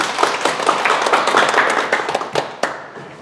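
Audience clapping during a Sunday lecture hall session, a brisk burst of many hands with distinct individual claps standing out, fading toward the end.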